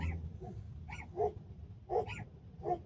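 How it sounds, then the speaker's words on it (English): A dog barks a few times in short, soft yips and woofs over a low background rumble, fairly close. "Oh my God, it's another doggy."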